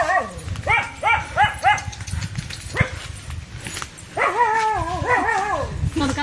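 Several dogs bark outdoors in repeated bursts of yips and barks, some near and loud, with a higher whining bark later, while people talk over the commotion.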